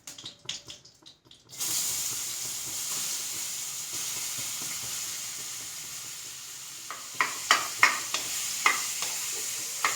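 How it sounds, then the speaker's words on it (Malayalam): Ripe papaya pieces sizzle steadily in hot ghee in a pan, preceded by a few brief knocks, with sharper spatula scrapes and clicks of stirring growing louder toward the end. "ഈ ഓമക്കായ ഇതിലിട്ടിട്ട് നന്നായിട്ട് വഴറ്റിയെടുക്കാം."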